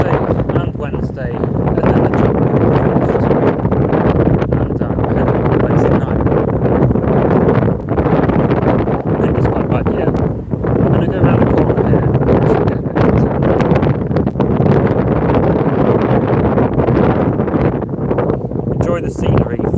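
Wind buffets a microphone outdoors in Belfast, a steady loud rumbling roar that fills the whole stretch and covers any other sound.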